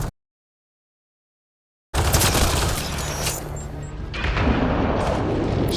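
Enemy gunfire in the video game Mass Effect Andromeda starts after a short silence and becomes a dense, loud barrage of shots and blasts that keeps going without a break.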